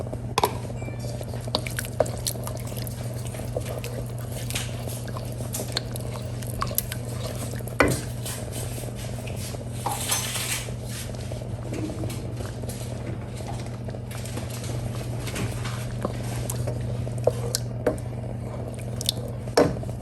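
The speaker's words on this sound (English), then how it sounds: "Now that the sauce has thickened, I'm going to add the green chilies." Green chilies are stirred into a thickened chicken stock sauce in a pan, giving a steady low bubbling simmer with soft wet squishing and occasional spoon taps, close and continuous with no talk.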